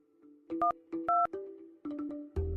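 A phone keypad dials the police emergency number 100 at close range, giving a quick series of distinct electronic tone beeps in short bursts separated by brief pauses, with no talking.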